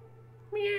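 A cat meows in a trailer for Stray, a third-person cat adventure game, one short rising call that starts abruptly and ends within a second, over a steady low hum.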